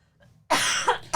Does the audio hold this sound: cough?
yes